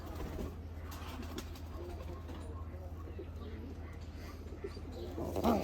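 Domestic pigeons coo softly and intermittently in a loft where chicks have recently hatched, with a steady low hum underneath and a brief louder flutter near the end; a person is audible nearby.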